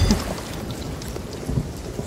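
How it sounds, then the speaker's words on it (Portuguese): Thunder in the pirate video game Sea of Thieves, a low distant rumble over steady rain patter, fairly quiet and alone without speech. "Tá se criando um boi dentro de casa ou isso foi um trovão?"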